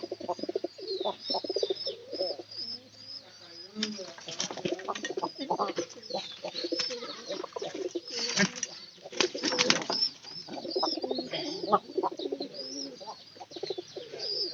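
A domestic pigeon kept at home coos repeatedly at close range, with a voice talking over part of it and a few bursts of flapping.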